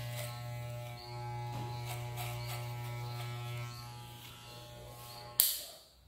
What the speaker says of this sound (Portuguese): com a máquina flutuando a parte de cima. Eu vou usar o pente 4, que é o mais alto.